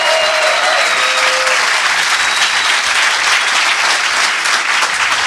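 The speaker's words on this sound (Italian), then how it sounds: "vi chiedo un altro applauso per Tony Boni" A comedy club audience bursts into loud, continuous applause, a thick, even roar of clapping that holds at full strength for the whole stretch.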